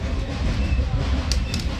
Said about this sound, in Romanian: că mere trenul